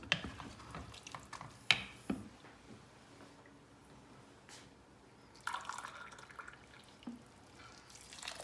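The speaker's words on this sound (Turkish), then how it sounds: "Bir su bardağı su daha katıyorum." Water is poured into a pot of simmering pea stew, giving a short splashing gush after scattered drips, clinks and stirring noises, all fairly quiet and close.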